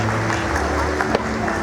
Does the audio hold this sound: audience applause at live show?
yes